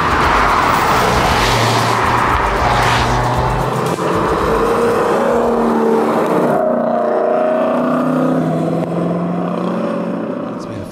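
A 650-horsepower two-wheel-drive rally car is driven hard on a 2022 Targa Tour stage. A loud, continuous engine roar runs throughout, rising and falling in pitch with gear changes, close and dominant.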